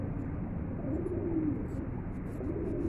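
Pet pigeons near their cage cooing softly, a few drawn-out low warbling coos rising and falling over steady background hiss, close by but quiet, with no speech.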